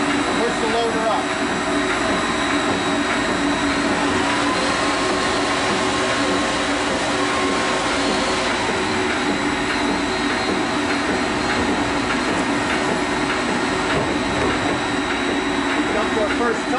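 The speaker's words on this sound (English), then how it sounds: "The amperage is up on our shredder and our hydraulic motor." A VST 42e shredder runs loudly and steadily on its hydraulic motor, a dense continuous mechanical roar with a constant whine and grinding texture throughout, close by and without breaks.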